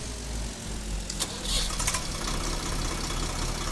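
Swaraj 855 tractor engine in Farming Simulator 22, a steady low rumble running unbroken from start to finish, with a few brief higher-pitched bursts in the middle.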